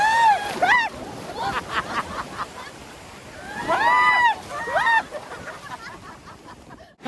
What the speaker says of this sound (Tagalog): Oh guys, ang laki ng alon.